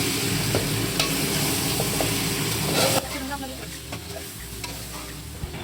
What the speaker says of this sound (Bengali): এই যে আমরা এটাকে নেড়ে চেড়ে ভালোভাবে মশলার সাথে কষিয়ে নিচ্ছি